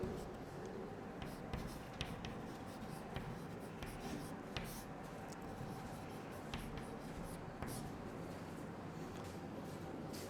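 Chalk or marker writing a definition on a classroom board, a quiet run of scratchy strokes and taps heard at a distance amid faint room noise.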